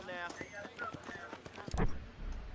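Horse hooves clip-clop in the Red Dead Redemption video game, a quick run of light, close hoofbeats mixed with game sounds and talk, ending in a heavier thud.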